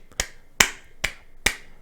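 A man claps his hands several times indoors, four crisp slaps plus the start of a fifth spaced roughly every half second, close to the microphone in a quiet room.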